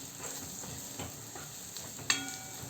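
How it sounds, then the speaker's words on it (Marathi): Paneer and vegetables being stirred in a hot pan with garam masala powder, a soft steady sizzle with spoon scrapes throughout and one sharper clink of utensil on pan near the end. "1 चमचा गरम मसाला पावडर घालूया आणि एकजीव करून घेऊया"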